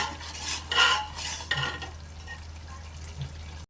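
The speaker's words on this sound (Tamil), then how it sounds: "போட்டு நல்லா கிளறி விட்டுக்கலாங்க." A spoon scrapes and clinks in a pan while pepper goat trotter pulao is stirred, giving a few close, brief scraping strokes over a low steady hum, with no voice.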